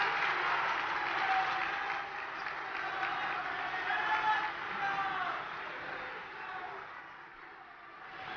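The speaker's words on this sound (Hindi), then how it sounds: "जोरदार तालियां होनी चाहिए इनके लिए" An audience at the closing ceremony of a national gathering of artists applauds local volunteers from Karnataka. Steady, full applause lasts several seconds, heard from a distance, then eases slightly toward the end.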